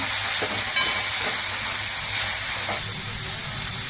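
Ground coriander and garlic sizzle in a hot pan for a Marathi ambadyachi bhaji (gongura greens), a steady broadband frying hiss that holds throughout and eases slightly near the end, with no talking.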